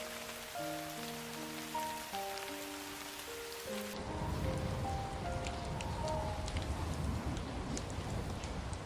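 Light autumn rain in Fukushima falls on a pond's surface where fish swim. The hiss is soft and steady and follows a short stretch of gentle music.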